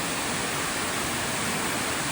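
The Crystal Cascade waterfall in the Grose Valley gives off a steady, dense roar of falling water, an even wash of noise from nearby with no voices.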